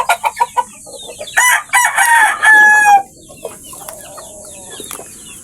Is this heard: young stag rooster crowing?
yes